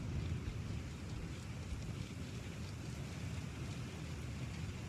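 Howling storm wind sweeps across a planet's surface in Star Citizen, a steady roaring rush with low rumble that holds at a constant level for the whole stretch, with no voices.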